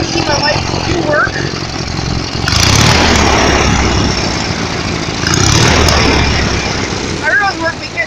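Small engine idling after an idle adjustment, with a steady buzzy exhaust drone that swells louder twice as if revved, and a person talking over it.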